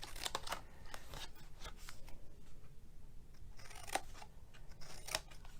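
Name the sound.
scissors cutting a paper box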